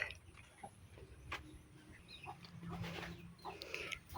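Chicken clucking near a bamboo hut on a farm, several short clucks scattered through the stretch with a louder low burst midway, faint amid quiet outdoor background.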